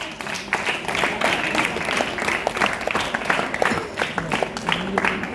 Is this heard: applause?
yes